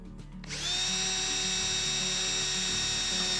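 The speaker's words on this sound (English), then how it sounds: "we're gonna use a drill and we're gonna drill some holes" A power drill whirs up to speed and holds a steady, high, buzzing whine as it bores holes through a plastic jar lid, close by with a low hum underneath.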